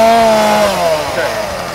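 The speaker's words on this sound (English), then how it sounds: "Rev it up a few times before you get your wood." Echo chainsaw revving up close, a loud high whining engine note that rises then drops and wavers as the throttle eases, continuous for the short stretch.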